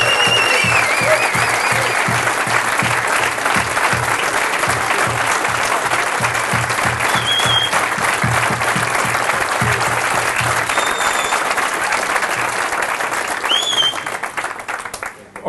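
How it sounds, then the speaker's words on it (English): Sustained applause from a large audience at a CERN celebration of the 2013 Physics Nobel Prize, dense steady clapping filling the room for the whole stretch before thinning out at the very end. "I think now you should give some applause also to you guys"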